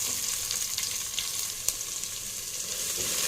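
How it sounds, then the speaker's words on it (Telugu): Aubergines and onions frying in oil with cumin, a steady close sizzle with soft crackles and occasional stirring scrapes throughout. "ఇప్పుడు వీటిని చక్కగా ఫ్రై చేసుకోవాలి."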